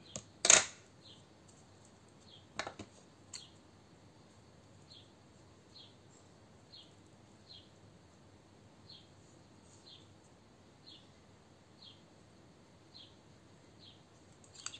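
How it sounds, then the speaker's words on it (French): Small birds singing outdoors, heard from indoors as faint, high chirps repeating at a steady pace, far off and quiet, after a sharp click and a brief clatter at the start. "Je sais pas si vous entendez les petits oiseaux là dehors"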